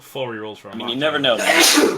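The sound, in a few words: sneeze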